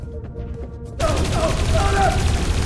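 Sudden, dense burst of gunfire in the Dreamfall Chapters video game: after a quieter first second, sustained loud shots that continue to the end, with a voice in the background.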